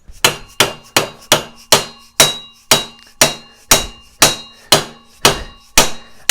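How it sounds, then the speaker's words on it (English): Large mallet pounding a bike part during a BMX build: about a dozen loud, close, sharp thwacks at a steady, fairly quick rhythm, each ringing briefly before the next blow. "get the mallet. Big Timmy mallet"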